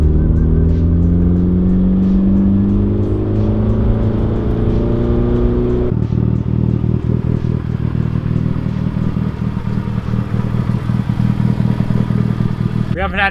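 A lowered Mitsubishi Evo 8 on new coilovers pulls away and drives, its engine note rising through a gear then settling into a steady loud drone with road rumble and clatter, continuous and close throughout.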